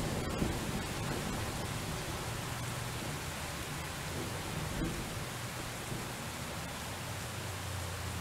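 Steady, dense rain hisses continuously throughout in the game Bus Simulator 21, a broad even wash of noise with a faint low rumble underneath and no voices.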